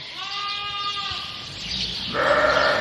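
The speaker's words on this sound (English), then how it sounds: "So this is the ewe lambs that desperately need done." Woolly, unshorn ewe lambs bleat in a pen, one long wavering call and then another louder one close by, over steady background noise.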